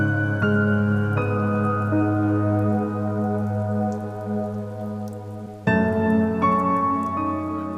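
Steady rainfall patters continuously beneath loud sustained music with held melodic tones.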